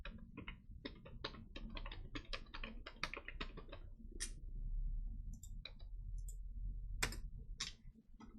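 Computer keyboard keys are pressed for a Ctrl+C copy in Excel, a quiet run of sharp, irregular clicks in the foreground against a low hum.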